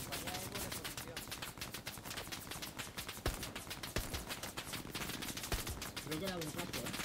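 Rapid bursts of gunfire in the video game Hell Let Loose crackle almost continuously, with a few sharper single shots standing out and a voice faintly beneath.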